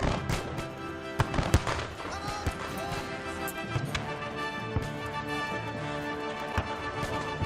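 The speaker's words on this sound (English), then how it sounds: "The enemy sees us and begins firing." Volleys of musket gunfire during a battle reenactment of an assault on redoubts with fixed bayonets: irregular sharp cracks and pops, some close and loud, others distant, over a dense background of crowd noise and voices.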